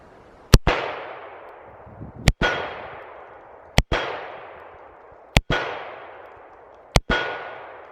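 Five loud, sharp revolver shots from a Ruger SP101 .357 Magnum firing standard loads, each crack spaced one to two seconds apart and followed by a long ringing decay.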